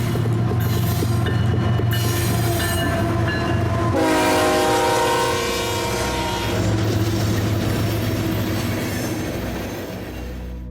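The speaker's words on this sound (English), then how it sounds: "a BNSF empty grain train with a KCS Jivo trailing third rolled into town" An empty BNSF grain train with a KCS locomotive trailing third rumbles past close by, its horn blaring in long blasts over heavy rolling wheels and rail noise.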